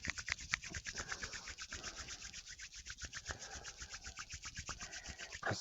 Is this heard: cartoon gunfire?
no